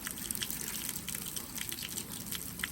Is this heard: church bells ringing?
no